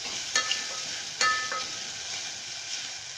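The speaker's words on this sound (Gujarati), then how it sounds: "હવે આપણે તેમાં સાબુદાણા એડ કરી દઈશું અને તેમને આમની હારે મિક્સ કરી લઈશું" Sago pearls stirred into a sizzling pan for sabudana khichdi: a steady close frying hiss with a few sharp scraping taps of the spoon against the pan, no voices.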